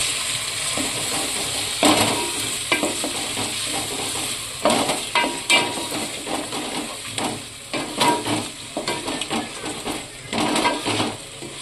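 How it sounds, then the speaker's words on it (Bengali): Ginger garlic paste fries in a pan of oil with a soft ongoing sizzle, broken by repeated scraping and clinking of a spatula stirring against the pan in irregular bursts. "আদা রসুনটাকে কিছুক্ষণ ভাজবো"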